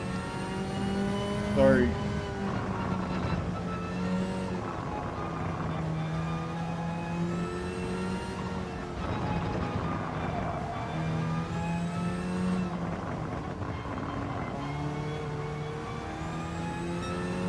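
Race car engine in Gran Turismo 7, a JGTC-class car at Suzuka, revving loudly with rising and falling harmonic sweeps throughout, overlaid by steady game music and a brief spoken word.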